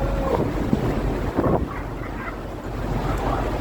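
Strong 40 to 50 knot storm wind roars steadily against the microphone over rushing sea and hull noise near the Antarctic Circle, loud and continuous with no voices.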